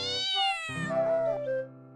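A cat meows twice in a row, close and clear, the first call rising and falling, the second a shorter, higher wail, with no voices around it.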